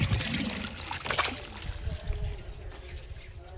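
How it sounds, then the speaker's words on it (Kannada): Water trickling and pouring onto areca saplings and garden plants in summer, a soft continuous splashing stream, fairly quiet and close. "ಅದಕ್ಕೆ ಸ್ವಲ್ಪ ನೀರು ಹಾಕಿದರೆ ಈಗ ಬೇಸಿಗೆಯಲ್ಲಿ ಸ್ವಲ್ಪ ಚೆನ್ನಾಗಿ ಆಗ್ತಾವಂತ ನೀರು ಹಾಕ್ತಾ ಇದ್ದೆ."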